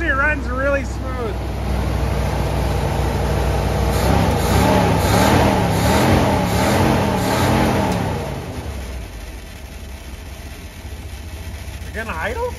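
An antique Ford F600 farm truck engine runs steadily and close by in the cold, with a low continuous rumble under people talking, then drops to a quieter idle near the end.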